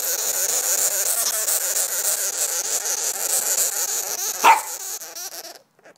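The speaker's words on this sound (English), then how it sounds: "When angry, sugar gliders lean back and make a chattering noise that resembles a small yapping" A small, angry sugar glider chatters like a yapping little dog, giving quick, sharp yips over a steady hiss of background noise. One louder burst stands out near the end before the sound cuts off.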